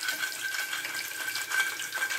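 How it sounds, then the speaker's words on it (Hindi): Macaroni frying in hot oil for a crispy kurkure-style snack, giving a steady, close hiss and crackle that runs without pause throughout. "जो बकाया मकरोनी है बिल्कुल उसी तरह उन्हें भी फ्राई करूंगी"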